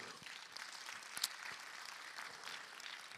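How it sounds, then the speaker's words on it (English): Audience applause at a food systems pitch day as a judge on the panel is introduced, steady and moderately distant, with a few sharper claps standing out. "Clap for her, please."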